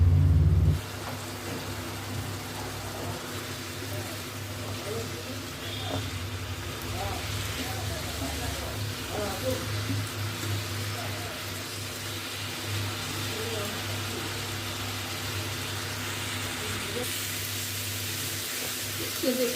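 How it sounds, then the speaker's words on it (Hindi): Vegetables and spices frying in oil for a no-garlic, no-onion niramish dish, a steady close sizzle and crackle running the whole time under a low constant hum. "इसे हम भून ले रहे हैं, थोड़ा 5 मिनट भूनेंगे।"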